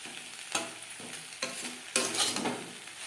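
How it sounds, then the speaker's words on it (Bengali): Onion stalks fry on a gas flame while a spatula stirs and scrapes the pan in several sharp strokes over a steady soft sizzle. "গ্যাসের ফ্লেমটাকে অন করে দিয়েছি এক দু মিনিট নাড়াচাড়া করে দেবো"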